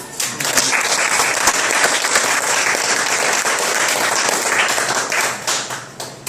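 Church congregation applauding during a sermon, a dense, loud, sustained burst of many hands clapping close by, holding steady for several seconds before tapering slightly near the end.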